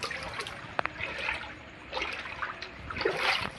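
Someone wades through water on the way home from a hospital in the evening; soft trickling and light splashing rise and fade in quiet, irregular bursts, close by and faint.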